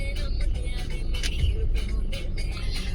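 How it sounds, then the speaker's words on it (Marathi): Dense, heavy traffic on the Mumbai-Pune-Bengaluru highway after rain in Pune, with a steady low rumble of cars, buses and trucks and faint higher swishes of passing vehicles throughout. "तर एवढं ट्रॅफिक आहे, खूप जास्त ट्रॅफिक आहे, खूप जाम होतं."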